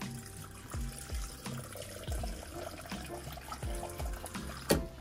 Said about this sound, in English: And then I fill it pretty high with water.